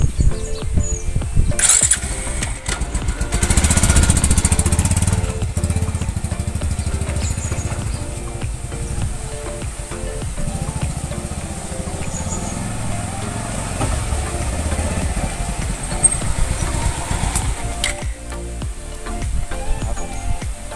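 A motorbike engine revs up and runs steadily, a continuous rumbling drone with some wind and road noise, fairly close throughout.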